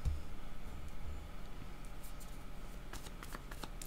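Cards being shuffled for a tarot-style reading: a few soft riffling bursts near the end, with a low thump at the start, all fairly quiet and without voices.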